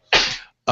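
A single close, sharp sneeze bursting out for about half a second, followed after a brief pause by a voice starting to speak.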